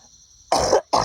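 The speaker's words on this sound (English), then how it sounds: "Sorry, I'm going to have to cough." Two loud, harsh coughs from a man with hay fever, close up in a quiet room, the first a longer double burst and the second short, following a brief pause.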